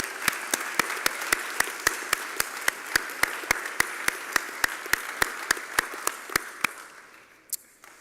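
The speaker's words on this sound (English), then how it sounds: "please join me and our staff and faculty for a round of applause for your parents" Audience applause at a school convocation, a steady wash of many hands clapping for the graduates' parents, with sharp regular claps standing out near the microphone before the sound fades out over the final second or so.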